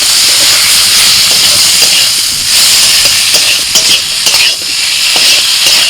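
Vegetables frying in a pan with salt, ginger paste, turmeric, red chilli and cumin powder give a loud, continuous hissing sizzle close up, with occasional clatters of stirring and no voices.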